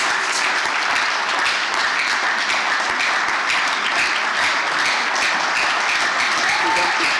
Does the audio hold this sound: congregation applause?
yes